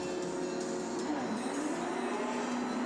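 A race car engine drones steadily with a shifting pitch, accompanied by a continuous roar of track noise at moderate distance, during a 25-hour Fun Cup endurance race.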